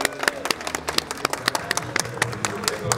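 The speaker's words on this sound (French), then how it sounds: "On peut les applaudir." Scattered hand clapping from a small group during a calisthenics bar competition, uneven and fairly close, with a voice talking over it.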